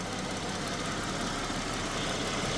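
A Ford Edge engine idles steadily as it warms up after timing chain, water pump and oil pan repairs, giving a continuous low hum and rumble throughout with no talking.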